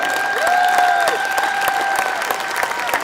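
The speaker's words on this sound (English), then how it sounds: "Let's give him a big, big round of applause." A crowd at a lightweight horse pull final applauds a winning pull, steady clapping with a few sharper claps standing out and a sustained whistle-like tone running through the middle.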